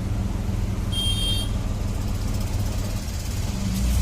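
Road traffic in Delhi heard from inside an auto rickshaw on the way to Nehru Place: a steady low engine rumble with idling vehicles nearby, a brief high whine partway through, continuous and fairly loud with no talk.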